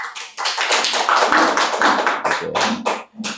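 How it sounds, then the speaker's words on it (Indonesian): Audience clapping for a guest at a school talk session, a dense burst of many hands applauding loudly for about three seconds, thinning out at the end. "Tepuk tangan untuk David dong."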